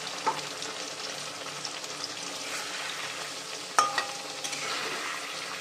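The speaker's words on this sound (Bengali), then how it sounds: "এখানে মশলাটা আমি দিয়ে দেবো এখন।" Spice paste frying in a generous amount of oil while being stirred, a close, steady sizzle with scattered scraping strokes and a sharper clatter midway, no speech.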